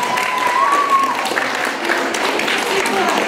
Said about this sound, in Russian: Аплодисменты нашим замечательным участникам.